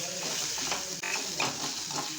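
Ginger, garlic, green chili and coriander sauté in a hot pan for okra bhaji, giving a steady, close sizzle and crackle with faint stirring scrapes throughout and no talking.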